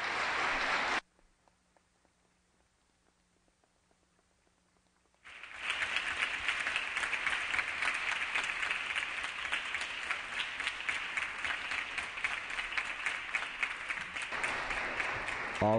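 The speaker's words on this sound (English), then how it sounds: "Please give a round of applause to all the volunteers" A crowd at a Chicano Latino youth leadership event applauding volunteers: after a brief burst and a quiet pause, sustained loud clapping from many hands fills the room and continues to the end.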